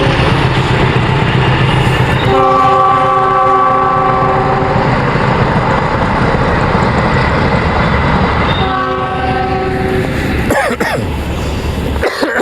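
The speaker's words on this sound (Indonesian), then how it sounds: "Terdengar berisik lagi, ada kereta lewat." A loud train rumbles past up close near Cimekar station, with a long blaring horn blast early on and another horn sounding later as the roar continues.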